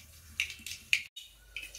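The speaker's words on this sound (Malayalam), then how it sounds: "വെളിച്ചെണ്ണ ചൂടായി വരുമ്പോൾ നമുക്ക് കടുക് പൊട്ടിച്ചു കൊടുക്കാം കേട്ടോ." Mustard seeds pop in hot coconut oil, making sharp, close crackles that come singly and in uneven bursts with short quiet gaps between them.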